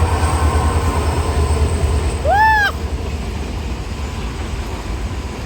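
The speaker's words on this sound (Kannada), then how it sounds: "ಟ್ರೈನ್ ಬಂತು ಇನ್ನೊಂದು ಟ್ರೈನ್ ಬಂತು ಟ್ರೈನ್ ಅಲ್ಲ ಅದು ರೈಲು ಎಗೇನ್ ಗೂಡ್ಸ್" A goods train rolls past with a steady rumbling clatter, and a short rising-falling whistle-like squeal cuts through briefly midway.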